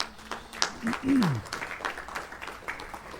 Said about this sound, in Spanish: Un aplauso a nuestro Dios otra vez.